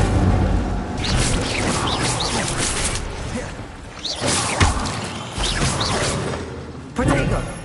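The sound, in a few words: Incendio fire spell cast in a video game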